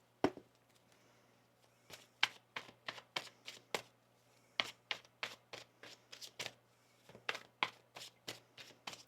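Tarot cards riffle and snap in quick repeated bursts, close and crisp, in an uneven rhythm of shuffles with brief pauses between.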